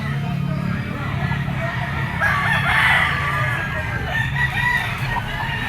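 A Boston white-legged stag at an outdoor pet market gives a single crow mid-clip, rising over background clucking, market bustle and people talking.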